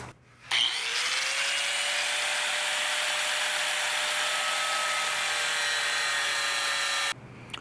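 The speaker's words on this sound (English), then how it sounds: "We're going to cut into this body," Power tool cutting into the rusted rocker body of a Jeep XJ, a steady, loud high-pitched whine with a grinding rasp that runs unbroken for about six and a half seconds before stopping abruptly.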